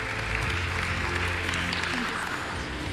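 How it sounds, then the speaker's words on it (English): An audience at a Hollywood award ceremony claps for an award winner, producing a continuous burst of applause for a few seconds. "Big round of applause, Alexandra Bihari."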